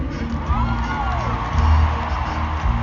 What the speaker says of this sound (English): A round of applause for the gentleman.